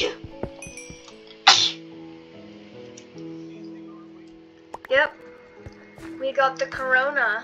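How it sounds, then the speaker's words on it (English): A single sharp sneeze bursts out early, loud and close, amid a quiet indoor scene with faint background tones, followed later by people talking casually. "I need to sneeze like really bad."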